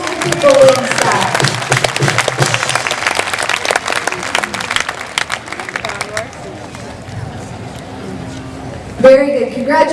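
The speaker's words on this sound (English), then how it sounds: "Can we give him a round of applause?" Loud applause from an audience at a raffle drawing fills the first several seconds, fading into murmuring crowd noise before a short burst of cheering near the end.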